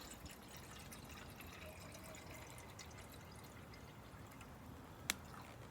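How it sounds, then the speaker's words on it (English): Water fills an old-fashioned 4-cup coffee percolator while camping, a soft continuous trickle with scattered drips and one sharp clink near the end, quiet and close. "We'll fill it with water."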